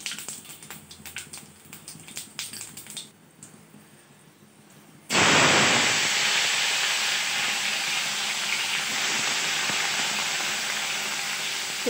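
Panch phoron spices hit hot oil with a sudden loud sizzling hiss that bursts in after a quieter stretch and keeps crackling steadily close by.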